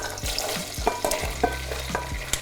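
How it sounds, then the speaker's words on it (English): Beans stirred through olive oil in a pot, with repeated spoon scrapes and soft clacks in a steady rhythm over a low frying sizzle, close and clear. "So I'm just stirring the beans to coat them in the oil"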